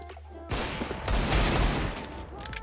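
Nova shotgun fire in CS:GO: a sudden loud blast opens a dense, roaring stretch of overlapping gunfire that fades slightly toward the end.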